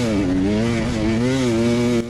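Dirt bike pinned wide open through a sandy section during a desert off-road race, engine loud and close with a steady high-revving drone and slight pitch wobble, cutting off abruptly near the end.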